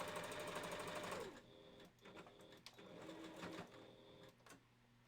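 A sewing machine stitches the edges of a wolf fursuit head, a fast steady buzzing run that stops after about a second, followed by quieter handling knocks and short bursts, close by with no clear talking.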